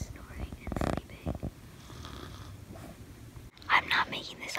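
A man asleep downstairs at night snores in slow, breathy rasps, fairly close, with soft whispered talk in between.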